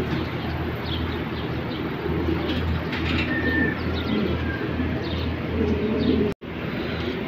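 Pigeons cooing in a loft in Saudi Arabia, soft repeated low coos and faint chirps over a steady background hum, moderately close and continuous.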